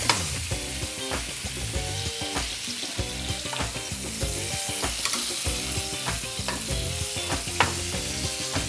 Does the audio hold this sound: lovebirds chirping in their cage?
no